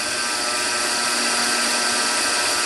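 Belt grinder hollow grinding a knife blade on a wheel while refining the scratch pattern and rounding out the plunge, a loud, continuous close-up whine and hiss of abrasive on steel.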